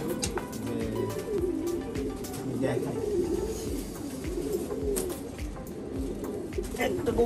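Low, soft cooing of pigeons rumbles steadily in the background, with rustling and scattered clicks over a constant hiss.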